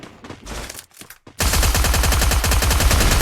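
Rapid automatic gunfire in a battle royale game fight, a few scattered shots at first, then a loud, dense, continuous burst of rattling fire filling the rest.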